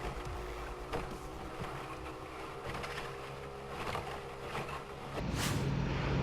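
Racing powerboats lining up for a race start in Jacksonville rumble and drone steadily against wind noise, with a louder surge of motor sound rising near the end.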